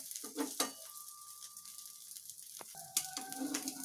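An egg roll frying in a pan, with quiet sizzling, a few sharp scrapes and taps of a utensil, and a faint sustained tone in the background.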